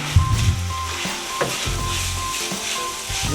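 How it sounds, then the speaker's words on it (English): Food seasoned with oregano and basil sizzles steadily in a pan while a utensil stirs it, giving low scraping thumps and clatter over the constant close frying hiss. "give it all a good stir"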